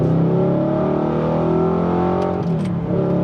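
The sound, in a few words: Audi R8 with titanium exhaust revving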